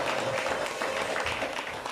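Applause from a church congregation during a worship service, a dense, steady wash of clapping that fills the whole short stretch at an even level, with some cheering voices mixed in.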